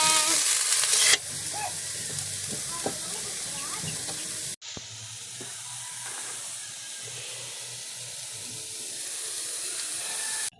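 Sliced bitter gourd (ampalaya) dropped into a hot pan, a loud hissing sizzle that bursts up, then settles into steady close frying with some stirring, interrupted briefly by a cut partway through.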